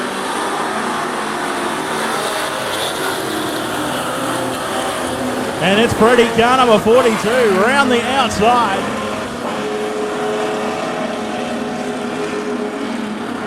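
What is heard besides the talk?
Super Stocker race cars, V8 Commodore, racing on speedway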